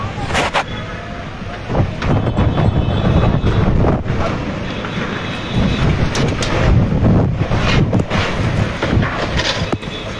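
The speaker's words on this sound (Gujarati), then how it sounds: "જબરજસ્ત પવન ફૂંકાઈ રહ્યો છે" Strong storm wind in Vadodara buffets the microphone in loud, gusty roars, with rattling and clattering bursts of metal sheets from a bridge under construction breaking through the constant rush.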